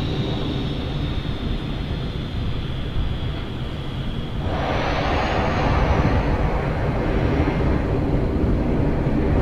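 ATR 42-600 turboprop engines in Microsoft Flight Simulator 2020 give a steady loud drone with a high whine. Midway the engine noise swells and broadens, then holds at a continuous roar with no voices.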